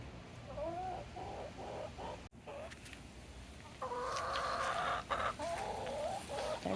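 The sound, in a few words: chickens clucking at dusk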